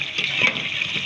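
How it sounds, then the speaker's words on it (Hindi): Water poured into a cooking pot of browned mutton and chana dal, a steady close rushing splash that holds level throughout. "अब इसमें हम पानी डालेंगे, 4 से 6 गिलास पानी डालें, दरमियानी गिलास"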